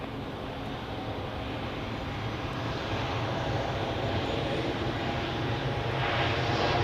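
Dassault Falcon business jet taxiing into a parking spot at Zurich Airport, a steady loud engine whine and roar that swells slightly toward the end, close by and continuous with no talk.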